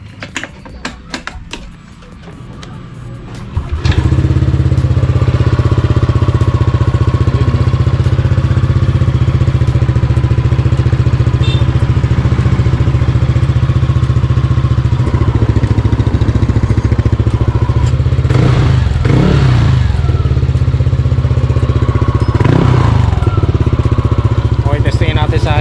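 A Yamaha Aerox 155 scooter fitted with a JVT v3 power pipe starts up and runs loud and close, its engine droning steadily with a couple of brief revs near the end, under occasional talk.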